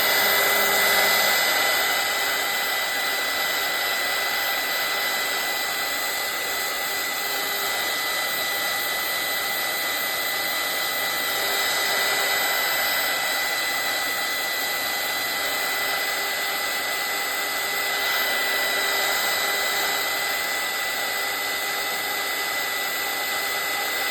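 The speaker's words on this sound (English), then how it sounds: "I'm gonna get out my heat gun and I'm gonna dry this real quick" A heat gun blows steadily over a watercolor painting, a constant close whooshing roar of hot air that holds level for the whole stretch without pause.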